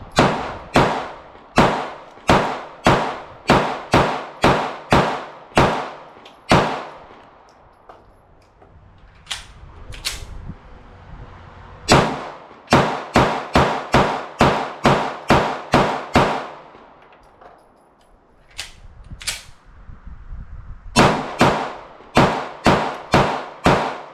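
Shots from a Ruger Max-9 subcompact 9mm pistol with a bladed-trigger safety, fired in three quick strings of about six to eight sharp, loud reports each, separated by pauses, with no talking.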